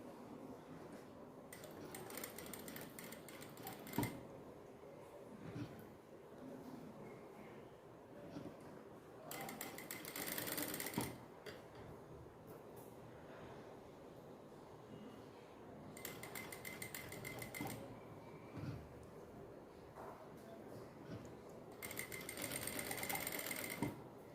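Sewing machine stitching a triangular scallop neckline runs in three short, fast bursts separated by quieter pauses of fabric handling, close and fairly soft.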